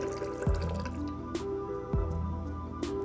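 Lime juice is poured into a honey-sweetened cocktail in a few short liquid drips and splashes, each with a falling glugging pitch, close and fairly quiet with no talking.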